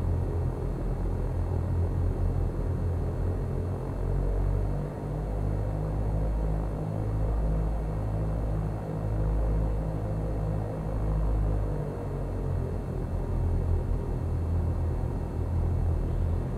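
A Cessna 172 engine taxiing in a flight simulator, a steady low droning hum with a throbbing rumble that swells slightly in the middle, continuous and without speech.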